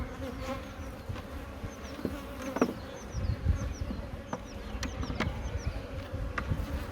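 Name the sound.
honeybee colony buzzing in an open hive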